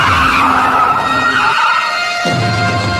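A car skids loudly to a halt on a rainy road, tires squealing and screeching for about three seconds, dropping briefly before a final scraping stop, as a dramatic horror-story sound effect.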